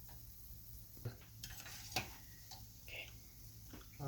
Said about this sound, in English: Let's allow them to deep fry like that for a couple of seconds more.